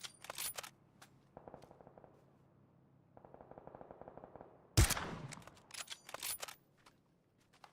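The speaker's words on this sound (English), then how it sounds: "Might lure someone over with those shots." Gunfire in the video game PUBG: several bursts of rapid shots at moderate distance, one loud sharp blast midway, then scattered single shots trailing off.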